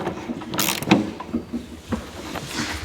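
Metal nut being run onto freshly recut bolt threads on a 1971 Ski-Doo Olympic snowmobile, giving close, busy mechanical scraping and ratcheting clicks throughout.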